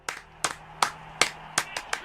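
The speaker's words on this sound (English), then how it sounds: "I can't believe I just clapped for that." Hands clapping in a home setting, six or seven sharp claps in an uneven rhythm over about two seconds, close and fairly loud with a faint hum underneath.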